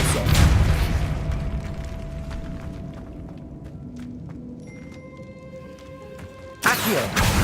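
Depulso spell cast in the video game Hogwarts Legacy, a heavy booming burst at the start that decays into a long rumbling tail, with faint clicks and tonal game chimes, then a second loud impact near the end.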